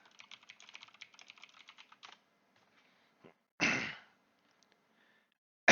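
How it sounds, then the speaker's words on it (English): A computer keyboard clatters with quick bursts of clicks, followed by a pause, a loud sigh-like breath and a final sharp click, all close and without talk. "Clicking the wrong buttons."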